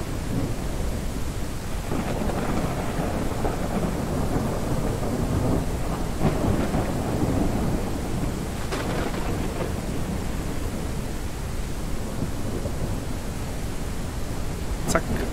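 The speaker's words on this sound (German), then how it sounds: "Mann, ist das ein Gewitter hier." Thunderstorm in the video game Ranch Simulator: continuous loud rain hiss with several rolling thunder cracks spread through, dense and unbroken with no speech.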